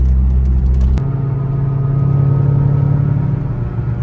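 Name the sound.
C5 Corvette engine revving after air intake install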